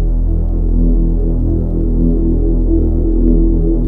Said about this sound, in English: Example of the resonance control.